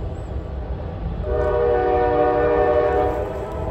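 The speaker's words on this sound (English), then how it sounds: "Train going by. It happens here quite often." A train passes nearby with a loud, sustained horn blast lasting a couple of seconds over the steady rumble of rail cars.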